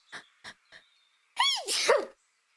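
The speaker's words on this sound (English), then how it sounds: "I have to sneeze." A voice acts out a sneeze: three short sharp inhaled gasps build up, then a loud drawn-out vocal sneeze with a falling pitch.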